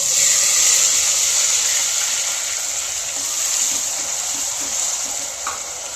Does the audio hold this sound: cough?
no